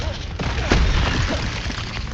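Confringo fire spell blast in Hogwarts Legacy, a booming explosive burst peaking sharply early, then rumbling on under other combat effects and a faint voice.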